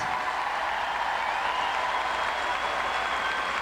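Spectators at the Vancouver 2010 Olympic figure skating arena cheering and applauding for Yuna Kim, a dense, steady roar of crowd noise filling the rink throughout.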